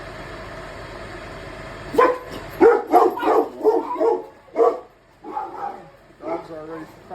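Several dogs bark indoors in a kitchen, a burst of overlapping woofs and yips after a quiet start, close and loud, with a person talking between barks.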